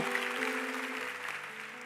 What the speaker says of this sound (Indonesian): Kasih tepuk tangan untuk teman-teman sebelahmu.